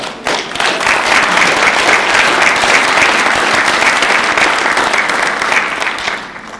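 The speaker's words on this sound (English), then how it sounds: "Please give yourselves a big round of applause." Loud, dense audience applause at a celebration event, a sustained roar of many hands clapping together that begins abruptly and tapers off toward the end.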